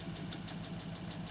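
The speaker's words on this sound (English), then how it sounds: "The engine is running fantastic." An old Buick engine idles smoothly after a cooling system overhaul, a steady, even rumble heard close with no break or voices.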